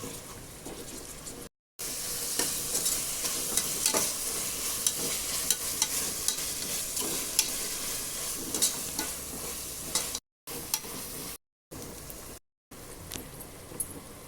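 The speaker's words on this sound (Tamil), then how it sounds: "புதினா இலை கொஞ்சோண்டு சேர்த்து வதக்கிக்குவோம்." Mint leaves for chicken biryani sauté in a hot pan, giving a steady close sizzle broken by scraping stir strokes, with a few brief silent gaps.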